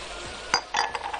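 Sausage and potatoes with pomegranate molasses are stirred in a pan, giving a few close metallic clinks and scrapes of a utensil against the pan in quick succession.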